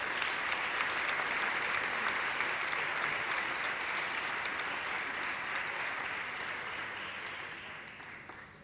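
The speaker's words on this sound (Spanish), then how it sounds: "Ahora sí, un aplauso" Sustained applause from an audience at an agricultural awards ceremony in Almería, steady and dense for most of the stretch before gradually thinning and fading away near the end.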